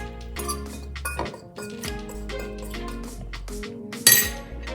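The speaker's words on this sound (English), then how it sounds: "you have to mix this gram flour and semolina all together" Gram flour and semolina being mixed together in a bowl, heard as repeated clinks and scrapes of a utensil against the dish in an uneven rhythm, close and fairly loud.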